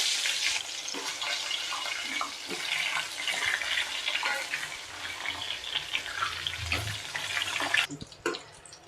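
Eggplant pieces crackle and spit steadily in hot oil, a dense close sizzle with small pops throughout, cut by a sudden clatter near the end.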